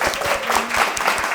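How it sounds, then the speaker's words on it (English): An audience applauds panelists at a media anniversary event, a dense, steady wash of clapping from a crowd that stays loud through the short burst. "Can we clap it up for our panelists?"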